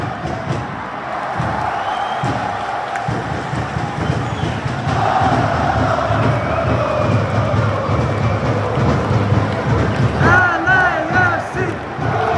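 LAFC's 3252 supporter group chants loudly in a stadium at the MLS All-Star Game, a massed crowd roar with rhythmic group vocals that builds and carries on throughout.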